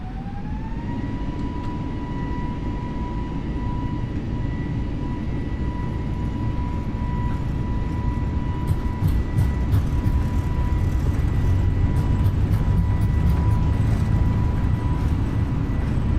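Airliner engines spool up for takeoff in Microsoft Flight Simulator 2020, a loud continuous roar with a steady high whine that holds throughout, no voices.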